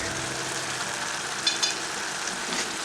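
Garlic goes into a pan of frying tomatoes and a continuous, close sizzle and crackle follows, with a couple of faint clicks from stirring partway through.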